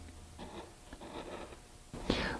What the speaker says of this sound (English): Now it's a matter of just cutting this away up to that stop cut.